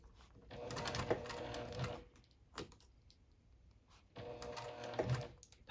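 A sewing machine stitches a seam on a small circular wristlet bag, running slowly in two steady bursts of close, rhythmic mechanical whirring with a quiet pause between them.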